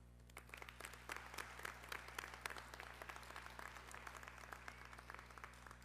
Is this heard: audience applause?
yes